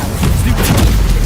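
The Incendio fire spell erupts in Hogwarts Legacy as a loud, dense rushing roar with booming weight, filling the whole moment without pause.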